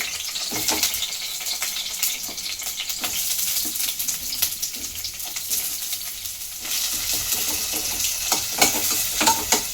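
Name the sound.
onion frying in a pan with chillies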